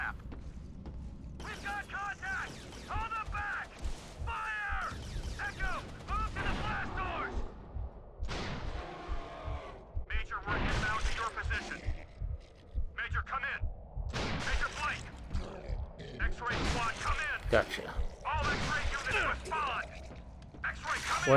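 Marksman rifle fire in the Resistance 2 shooter game, sharp repeated bursts and mechanical clatter with booming impacts, loud and irregular, mixed with radio chatter and voices talking throughout.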